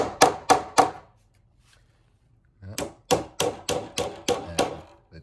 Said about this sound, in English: So just hammer your tack strips in.